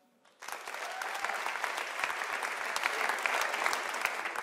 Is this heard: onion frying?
no